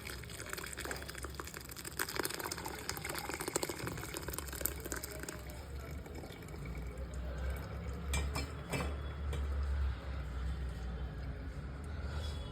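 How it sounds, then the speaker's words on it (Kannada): Curdled milk made from milk powder is strained to separate fresh paneer, with whey splashing and trickling through a cloth or strainer alongside light clinks of a metal pot and utensils, steady and close for over twelve seconds. "ಸೊ ಬನ್ನಿ ನಾವೀಗ ಇದನ್ನು ಸೋಸ್ಕೊಳ್ಳೋಣ"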